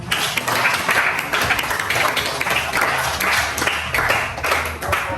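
Students in a classroom applaud their teacher, a dense, lively clatter of many hands that continues unbroken from start to finish.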